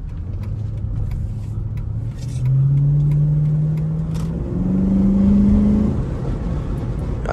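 A Chrysler 300 SRT8 engine drones steadily, then revs up twice with rising pitch, heard from inside or close by in traffic, loud and continuous.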